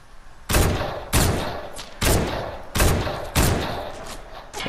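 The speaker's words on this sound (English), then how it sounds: "it all went back to just straight up gunfire" Five loud video game gunshots ring out at roughly even intervals, each a sharp blast with a long echoing tail, heavy and close.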